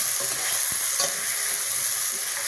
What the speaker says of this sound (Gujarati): રીંગણ અને બટાકાને હલાવી દઈશું